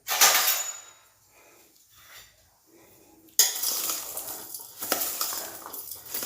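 Cut mango pieces being tossed and mixed with coarse rock salt in a bowl for a pickle, giving close clinking and scraping bursts that pause briefly and then resume more steadily.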